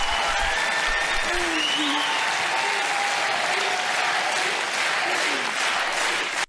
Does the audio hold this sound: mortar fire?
no